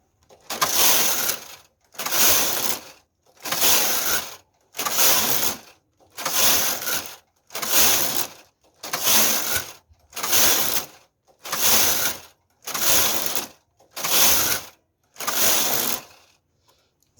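A knitting machine carriage knitting a tuck pattern sweeps back and forth in eleven evenly spaced, close rasping passes, each a short mechanical whoosh with clicking, separated by brief pauses.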